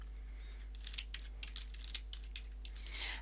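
An Excel function typed on a computer keyboard: a quick run of light, distinct key taps over a steady low hum, close and without speech.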